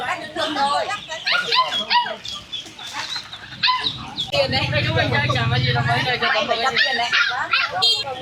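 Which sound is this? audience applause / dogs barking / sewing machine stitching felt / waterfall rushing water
dogs barking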